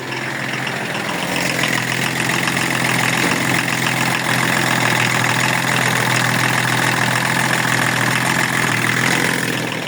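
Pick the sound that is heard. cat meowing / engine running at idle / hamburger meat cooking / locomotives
engine running at idle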